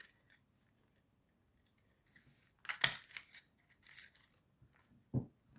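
Scissors snip through paper while a small pink heart is cut out, giving a few quiet, close crisp cuts around the middle and one more near the end, with near silence between.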